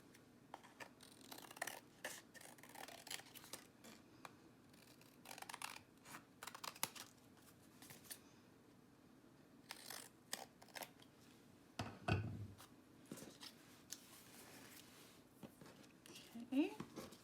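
Scissors trimming craft paper close up, a series of short crisp snips in an irregular rhythm, with quiet handling noises between cuts and no clear talk.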